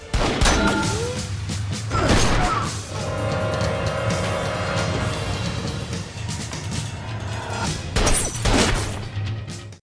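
A police-versus-mafia shootout in a film, with sharp gunfire bursts and crashes over a rumbling engine and a sustained musical drone, loud and dense throughout.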